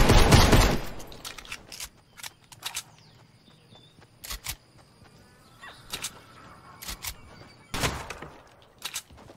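Gunfire in Fortnite Chapter 2 Season 1: an opening loud blast, then scattered sharp shots and short bursts at irregular intervals, some near and some more distant, with quiet gaps between.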